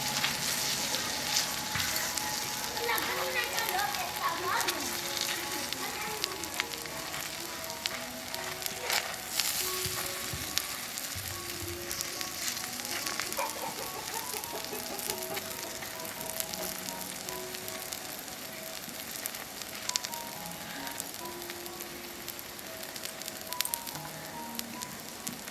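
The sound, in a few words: batter for Bengali gola roti sizzling on a tawa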